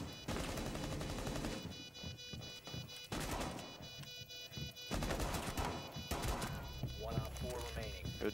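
Rapid bursts of gunfire in a Rainbow Six Siege match crackle in several clusters, loud close shots separated by short pauses, with game voice lines and a player talking over parts of it.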